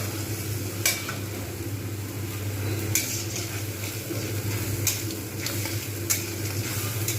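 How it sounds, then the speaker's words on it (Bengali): Spices for a rui fish curry with black cumin, ginger and garlic are stirred in a hot pan, with a steady low sizzle and a few sharp spatula scrapes against the metal spaced a second or two apart. "ভালো করে এটা কিন্তু আমি কষবো।"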